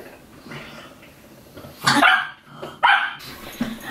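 A dog barking over a bone, two loud close sharp barks in quick succession with lighter yips and grumbles between them, indoors.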